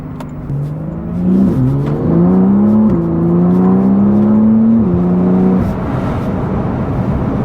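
A Porsche 911 Turbo S engine drives and accelerates, its deep roar rising in pitch through gear changes, loud and close for several seconds before easing off.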